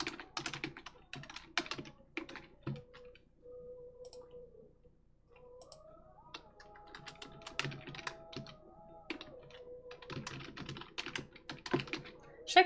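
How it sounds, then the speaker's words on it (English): Computer keyboard typing in quick irregular bursts of clicks and key taps, close and moderately loud, with pauses between flurries and a faint tonal hum underneath, no speech. "Sorry, typing sounds."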